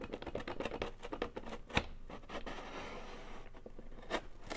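Scissors snip through cardboard for a craft snowman in a quick run of short, close cuts, then pause and resume with a few more scattered snips.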